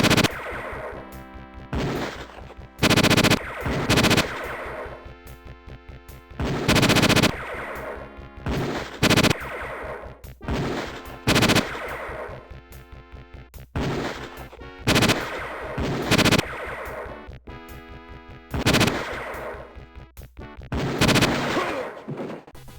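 Gunshots from the Police Quest 4 adventure game come in repeated loud bursts spread over the stretch, separated by short gaps, with synthesized game sounds between them and no talking.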